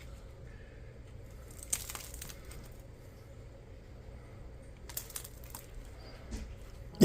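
Knife sawing into a freshly baked sourdough loaf, giving two short, faint bursts of crackly crust crunch over a quiet background.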